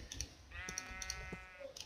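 A Minecraft sheep gives one drawn-out, wavering bleat, close and clear, while a keyboard and mouse click sharply before and after it.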